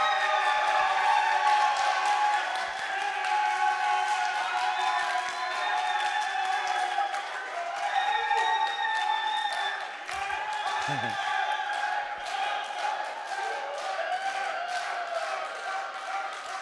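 Wedding guests cheer and clap, a crowd roar with shouts, whistles and scattered applause running throughout, while a voice rises briefly in the middle over the continuous noise.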